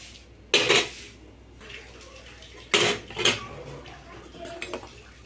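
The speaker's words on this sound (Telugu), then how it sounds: "అడుగంటకుండా ఇలా తిప్పుకుంటుండాలి, లేకపోతే ఊగినే అడుగంటుతాయి సగ్గుబియ్యం" A spoon stirs sago in a cooking pot, scraping the bottom so it won't stick. There are two loud metallic scrapes and clanks, then softer knocks, over a low steady background hum.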